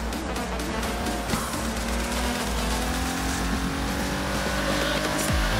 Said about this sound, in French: On fait des petits coups de frein, on tourne, on reprend l'accélération, c'est parti.